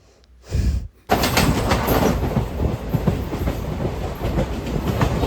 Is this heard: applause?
no